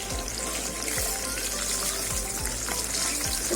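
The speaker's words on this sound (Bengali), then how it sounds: "এই বিউলির ডালটা আমি একটু লাল লাল করে ভেজে নেব" Urad dal frying in hot oil in a wok, a steady close sizzle with repeated scraping stirs at a regular pace, no talking.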